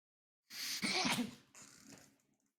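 A single loud, close sneeze bursts out after a moment of silence, followed by a softer breathy tail and a second, lighter exhale that trails off, heard during an online tabletop role-playing game session.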